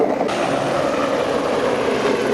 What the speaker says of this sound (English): there's a helicopter over there